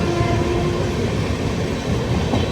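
The AP Sampark Kranti Express runs nonstop out of Kacheguda toward Kazipet with a loud, steady rolling rumble and rattling carriage noise, heard from inside the train.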